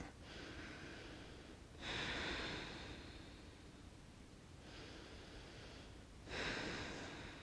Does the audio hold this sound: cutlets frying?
no